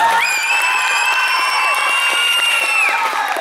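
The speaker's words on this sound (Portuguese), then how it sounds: "Palmas para a Lara." Crowd at a circus 'ugliest man in town' contest in Pingo D'água, MG. A loud sustained whistle or cheer rides over scattered clapping and crowd noise.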